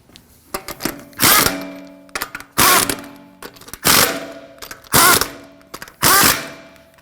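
Impact wrench snugging front wheel lug nuts on a 2016-2022 Honda Pilot during a strut and spring assembly replacement, firing in five loud, close bursts about a second apart, each a harsh rattling whir, with faint clicks between.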